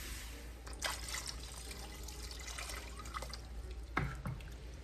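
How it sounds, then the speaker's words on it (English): Water poured into coconut milk in a pot for boiling rice in a Guyanese chicken cook-up, a faint splashing trickle with a couple of brief drips and pours over low background hum, quiet and without speech. "I'll add some more water because it needs more to boil the rice"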